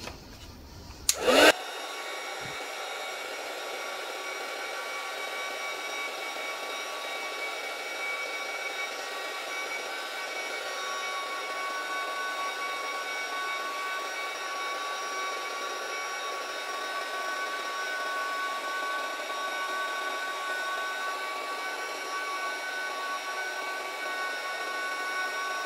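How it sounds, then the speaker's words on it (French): A heat gun melts embossing powder with a steady, loud, whooshing blower roar that starts abruptly after a brief click and then runs unbroken and even for over twenty seconds, close up and alone. "on va faire chauffer tout ça au heat gun"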